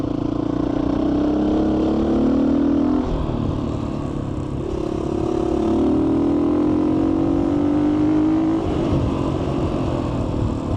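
A GPX FSE250e motorcycle rides up an incline at around 60 mph, its engine droning steadily and loud, with pitch rising through several long pulls and brief dips between shifts, plus wind rush throughout.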